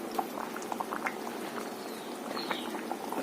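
Crab curry simmers at a steady boil in a pot with curry leaves on top, giving a continuous close bubbling and popping with no voices.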